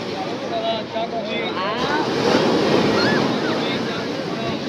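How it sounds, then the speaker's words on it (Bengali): Sea waves roar and wash continuously on Digha beach at night, a broad loud surf rumble with wind noise, and faint voices in the background. "কত সুন্দর ঢেউ। সবাই বসে বসে এখানটায় সমুদ্র দেখছে, সমুদ্রের গর্জন।"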